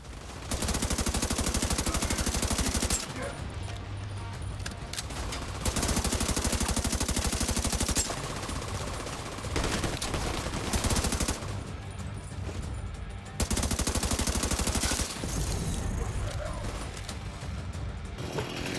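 Bursts of automatic gunfire from the video game The Division, loud rapid volleys in several long stretches separated by short lulls, with a sustained rattle running beneath.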